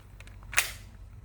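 A single sharp gunshot from a firearm at an outdoor shooting range, one loud crack standing out over a steady low background rumble.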